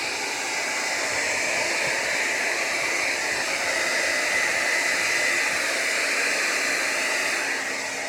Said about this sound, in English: This is my hair dryer